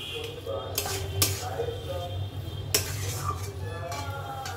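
A spoon stirs chicken masala paste in a pan, with faint sizzling beneath. Sharp scrapes and clinks of the utensil against the metal come at irregular intervals over a steady low hum.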